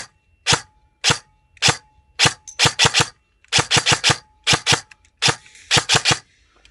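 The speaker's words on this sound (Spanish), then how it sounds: "Sí que alimenta, vamos a disparar." An airsoft MK18 MARSOC Neptune 9-inch rifle with an electronic trigger firing, with single sharp snapping shots followed by quick bursts of three to four rounds, loud and close with silent gaps between.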